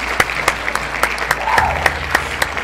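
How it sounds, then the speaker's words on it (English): Slow, evenly spaced claps, roughly three or four per second, sound sharp and close over a low background hum, like a small group or a single person clapping along in a loose rhythm. "Everybody clap that up."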